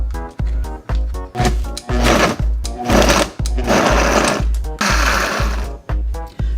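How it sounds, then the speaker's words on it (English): A Vitamix blender churns vegan cracker pizza crust ingredients in loud, rhythmic, chugging pulses that repeat steadily. Each pulse is followed by brief grinding surges as the thick mix catches and turns, with no voices. "I'm gonna blend it up in the Vitamix and see"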